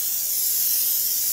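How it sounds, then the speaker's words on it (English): Anti-seize sprayed from an aerosol can onto a BMW 325Xi brake part, a single steady close-up hiss lasting through the whole brief moment. "I'm going to put a thin coat of anti-seize on here. This is just a spray."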